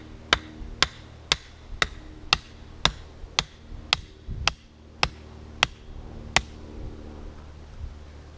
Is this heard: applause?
no